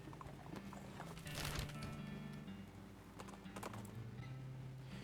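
A cart horse's hooves clip-clop faintly in the video game West of Loathing, light scattered knocks with a louder clatter early on, over a low droning background.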